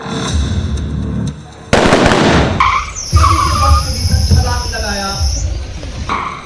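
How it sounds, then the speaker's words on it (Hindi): A simulated grenade goes off during a mock bus hijack drill, a sudden loud burst of noise followed by a sharp, sustained high squeal and shifting harsh noise, with some voices in the background. "एक आतंकी ने आतंकियों को भ्रमित करने के लिए सिमुलेटेड ग्रेनेड चलाया और एकाएक विस्फोट जैसी आवाज हुई"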